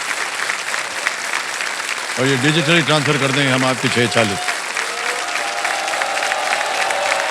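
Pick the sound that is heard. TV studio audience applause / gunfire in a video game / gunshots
TV studio audience applause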